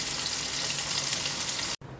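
Pieces of shol fish fry in hot oil in a kadai with a loud, dense, continuous sizzle up close, cut off by a brief silent gap near the end before the frying resumes.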